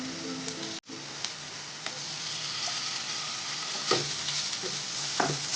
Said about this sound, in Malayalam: ഇനി ഇതിലേക്ക് 1 ടീസ്പൂൺ ഇഞ്ചി വെളുത്തുള്ളി പേസ്റ്റ് ഒന്ന് ചേർത്ത് കൊടുക്കാം